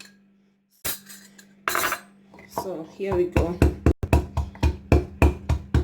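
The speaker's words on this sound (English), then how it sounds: "what I'm going to do first is to use this little mortar to crush the garlic" A brief spoken phrase, then steady, rhythmic pounding of a small pestle crushing garlic in a mortar, close and fairly loud, with sharp repeated knocks.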